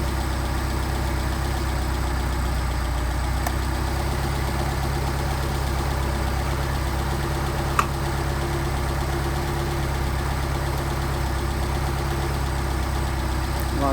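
Engine idling after a Solex carburetor rebuild and adjustment, a steady close mechanical drone with even low rumble and a faint single click, running alone without talk; the speed change is subtle.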